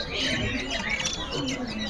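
Ciung wanara songbird calling inside a bird shop, bright chirpy whistles and squawks close by, mixed with other caged birds and busy shop noise throughout.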